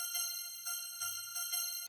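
Drum-and-bass percussion run through a chroma effect tuned to the key of F, giving a quiet, bell-like pitched tone that pulses in a steady rhythm for about two seconds.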